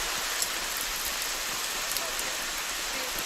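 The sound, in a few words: strong rain falling at an outdoor shooting range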